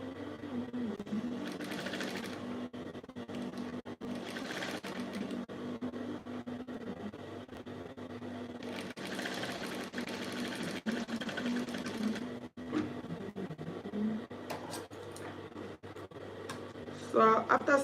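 A sewing machine runs in steady bursts while stitching a pocket onto short pants, the motor's whir rising and pausing between seams, with a voice talking at moments over the mechanical hum.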